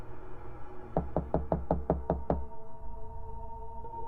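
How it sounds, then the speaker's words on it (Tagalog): Seven quick, evenly spaced hollow knocks rap on a door at night in a quiet village house, close and distinct, then fade into a calm, low background. "sa bahay ni Mang Ernesto, gabi-gabi may kumakatok."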